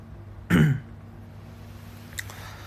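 One short, sharp throat clear with a cough comes from a nearby person, followed by quiet and a faint second catch of the throat about two seconds later.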